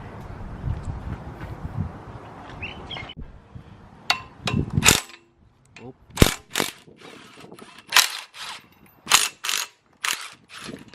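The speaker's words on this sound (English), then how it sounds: "And now I just gotta unbolt these." A ratchet unbolting bolts, heard after a stretch of low rumbling noise as a series of sharp clicking bursts in irregular groups, close and fairly loud, with a voice speaking in between.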